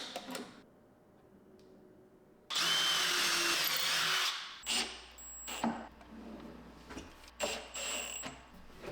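A power drill whirs in one loud, steady burst lasting a couple of seconds while drilling holes for cabinet hardware, followed by several short clicks and bumps of handling.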